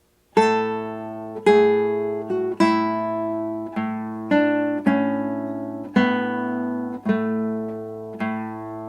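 Slow, plucked nylon-string classical guitar playing the opening phrase of Joy to the World, single notes and chords ringing out one by one at an unhurried, even pace, clean and close.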